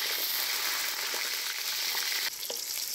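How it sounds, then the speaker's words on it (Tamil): Onions sautéing in hot oil in a pan for a pirandai thuvayal give a loud, steady, close sizzling hiss that briefly dips near the end, when they are stirred. "இப்போ நம்ம முதல்ல வெங்காயத்தை நல்லா வதக்கிக்கலாம்."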